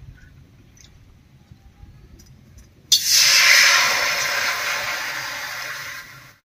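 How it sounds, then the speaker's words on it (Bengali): Water poured into a hot, empty wok after dry-roasting spices gives a sudden loud sizzling hiss that starts abruptly, holds steady for about three seconds and then slowly fades, following a quiet stretch of faint kitchen noise. "এবার কড়াইতে জল দেব।"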